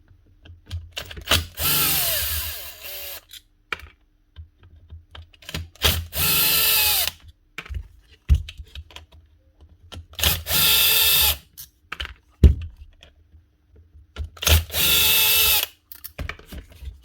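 A repaired gearbox from a fishing boat's power tool whirs in several bursts of a few seconds each, loud and close, with ratcheting mechanical rattle and short clunks in the quiet gaps between runs.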